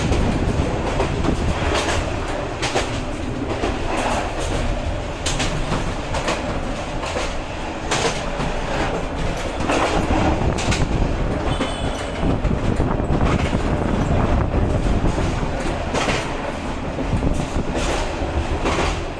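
Steady loud rumble and rattle inside the guard's room at the rear of a moving train in Bangladesh, with continuous wheel clatter and rushing noise throughout and no break.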